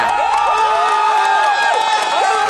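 Young supporters cheer and shout loudly as a crowd at a youth football match during a street viewing, a dense roar of excited voices throughout.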